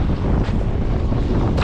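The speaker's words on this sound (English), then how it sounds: "I know it's windy, so if you can't hear me properly" Strong wind buffeting the microphone on a rocky Croatian seashore, a loud constant roar with low rumbling gusts throughout.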